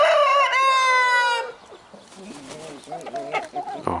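A rooster lets out a loud, close crow lasting over a second, followed by a run of softer clucking from hens and roosters in a farmyard flock.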